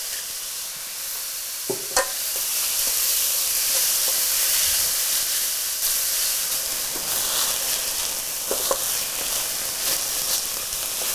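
Peppers and onions for shakshuka cook down in a pan, giving a steady soft sizzle and hiss that runs throughout, with a few light clinks of a utensil against the pan.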